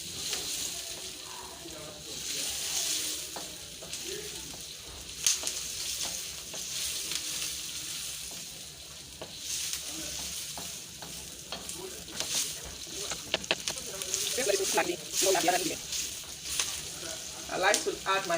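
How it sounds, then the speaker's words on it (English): Onions and garlic frying in a pan for a coconut milk sauce, a steady close sizzle with occasional stirring scrapes throughout. "I'm starting with my onions and garlic. We'll fry this for a while."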